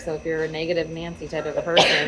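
A single sharp sneeze bursts out near the end while a person keeps talking over a conversation.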